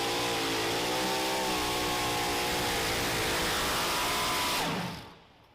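A pulling truck's engine roars at full throttle at a competition, a loud, continuous high-revving drone with rising harmonics that fades out at the end.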